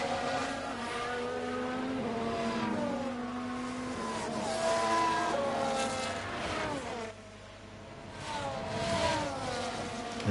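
Formula 1 race cars from F1 Manager 22 scream around the Imola circuit, several high-pitched engines rising and falling through gear changes as they pass, loud and continuous with no talking.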